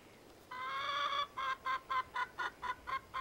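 A chicken gives a drawn-out squawk and then a run of about eight evenly spaced clucks. The calls are clear and close, with no other sound around them.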